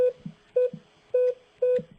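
Telephone keypad tones ring out as digits are dialed on a mobile call into a Cisco CUCM voice system: four short, evenly spaced beeps, each followed by a soft click, heard clearly with no talking.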